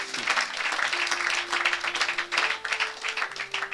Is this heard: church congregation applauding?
yes